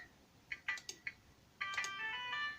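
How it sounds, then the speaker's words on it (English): Phone notification buzzes from the video game Doki Doki Literature Club: several short electronic pings, then a longer sustained tonal chime, fairly quiet with no talking. "My phone keeps buzzing, sorry."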